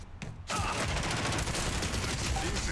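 Sustained automatic gunfire in the shooter Spectre Divide bursts in after a brief lead-in and keeps up a dense, loud, continuous rattle for the rest of the stretch.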